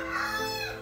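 A rooster crows once, close and clear, in a short harmonic call.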